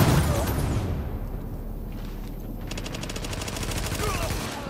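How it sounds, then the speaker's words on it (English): A loud blast opens a firefight in The Division video game, followed by rapid bursts of automatic gunfire crackling close by, with a brief lull in the middle before the shooting resumes. "Uh-oh, explosion."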